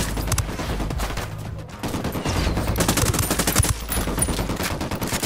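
Automatic gunfire in the video game Ghost Recon Wildlands rattles in dense, rapid bursts, loud and close, broken by a brief pause before the firing resumes just as hard.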